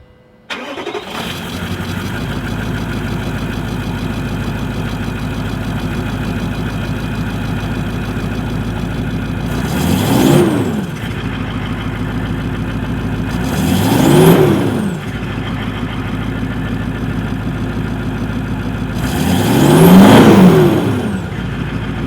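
A Landcruiser 200 series V8 fitted with a new MANTA twin 3-inch performance exhaust cranks and fires, settles into a deep rumbling idle, then is blipped three times in rising, throaty revs that fall back to idle.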